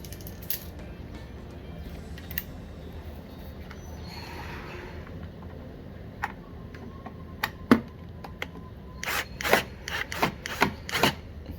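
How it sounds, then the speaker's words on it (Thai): Screws are tightened while a side mirror is mounted on a Honda Forza scooter, giving scattered small ticks and rubbing scrapes, then a quick run of louder clicking ratchet-like taps near the end. "ขันให้แน่น"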